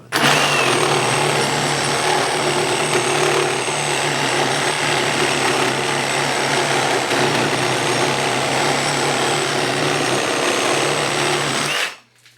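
A Ryobi P517 brushless cordless reciprocating saw cuts steadily and loudly for about twelve seconds, a continuous buzzing drone with a hum that stops abruptly at the end.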